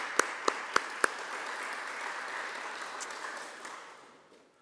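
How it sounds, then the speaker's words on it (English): An audience at a seminar on the Korea-US alliance breaks into sustained applause, a few sharp early claps leading into a steady wash of clapping that fades gradually toward the end. "please let's give them a round of applause"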